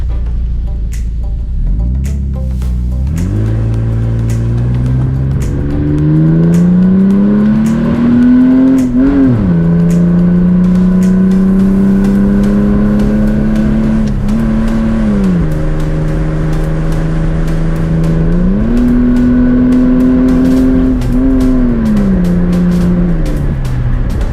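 Jeep Liberty 3.7L engine revving up and down repeatedly while the vehicle moves, loud and close, with a steady droning tone that rises and falls through several throttle swells; no talk over it.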